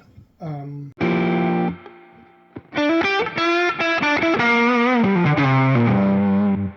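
An electric guitar through a Fender Tone Master Pro with a noise gate and Bluesbreaker overdrive plays a short phrase of sustained, gritty notes with bends, pausing briefly before a longer melodic run.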